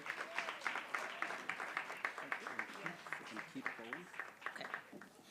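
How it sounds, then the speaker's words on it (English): An audience at an awards night claps in a brief, moderate round of applause, a few voices faintly audible beneath it, heard from some distance. "May we please give a round of applause"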